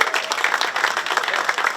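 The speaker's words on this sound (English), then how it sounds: "So that deserves a round of applause." Audience applause at a building's grand opening ceremony, a steady wash of many hands clapping for nearly two seconds, moderately loud and even throughout without talk.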